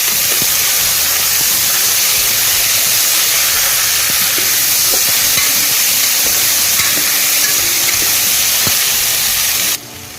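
Chopped tomatoes go into a frying chicken curry masala in a pressure cooker and are stirred through: a loud, steady hiss and sizzle with faint scraping, dropping off sharply at the end.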